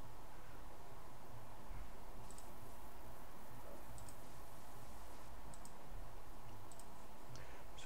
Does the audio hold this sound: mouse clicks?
yes